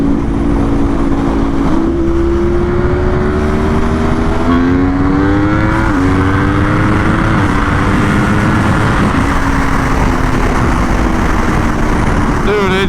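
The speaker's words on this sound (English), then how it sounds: "see what the Aprilia can do when we roll through some gears" A new Aprilia RSV4 sport motorcycle accelerates hard on a street, its loud, close engine note climbing and then dropping at each quick upshift, about five gear changes in a row.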